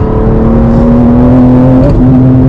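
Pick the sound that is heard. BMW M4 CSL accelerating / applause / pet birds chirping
BMW M4 CSL accelerating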